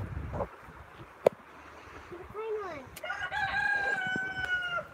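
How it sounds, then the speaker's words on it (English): A rooster crows at a distance outside a farm barn, a long rising and falling call over steady outdoor background noise, with one sharp click before it. "There's a chicken. Ooh, right on cue."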